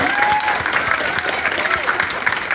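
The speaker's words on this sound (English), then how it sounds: "If you could give them another round of applause for this final" An audience at a women-in-sport panel event claps steadily for its four panelists, a continuous, even wash of applause with a speaker's voice drifting over it at moderate volume.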